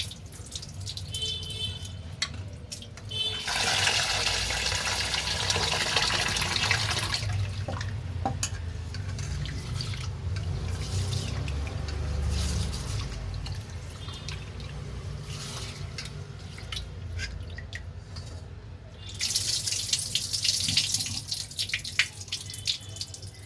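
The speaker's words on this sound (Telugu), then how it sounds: "రైస్ వాషింగ్ అవుతుందండి" Rice being washed under a running kitchen tap, a steady gushing stream splashing into the pot with bursts of swishing and sloshing as the grains are rinsed, the flow easing and returning.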